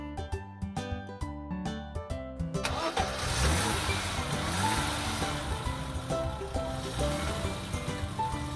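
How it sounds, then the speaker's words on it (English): A toy pickup truck's engine sound effect starts up after a few clicking mechanical knocks, then settles into a steady, loud, close mid-pitched rumble that holds to the end, with no voices. "Pickup truck."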